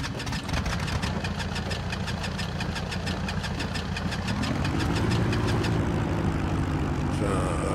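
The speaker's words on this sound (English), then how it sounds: "that's one good start on the right engine" A twin-engine piston aircraft in the X-Plane 11 flight simulator has its right engine started with mixture full rich and magnetos on: rapid starter clicking gives way to a steady, loud idling drone.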